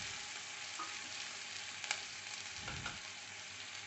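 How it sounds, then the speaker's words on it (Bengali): Okra with onion, ginger and garlic paste sautéed in a pan for bhindi do pyaza, a soft steady sizzle with a faint scrape of the spatula, quiet and close. "এবার আমরা এটা খুব ভালো করে কষিয়ে নিচ্ছি।"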